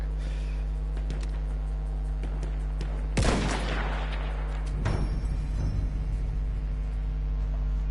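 Gunfire in the World War One shooter Battlefield 1, with a loud burst of shots near the middle and a second volley shortly after, over steady game background noise.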